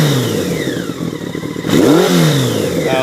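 A 1984 Honda Nighthawk 650 motorcycle engine with baffles still inside the exhaust pipe idles, then revs up sharply and falls back, the pitch sweeping up and down close by.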